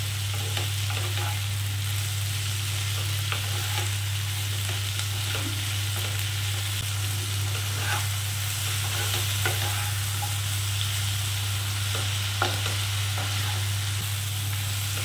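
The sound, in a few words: stirring onions and vegetables frying in a pan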